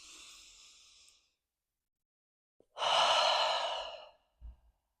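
Slow, deep inhale at close range, followed by a long, full exhale after a short pause, then a faint soft sound at the end in a quiet room.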